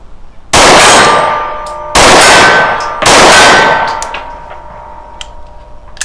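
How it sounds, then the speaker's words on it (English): Three sharp metallic clangs of bullets striking a steel gong at a shooting range, from a Rost Martin RM1C pistol, ring out about a second apart, each followed by a long, fading shimmer of steel resonance. "I like the sound of the gong"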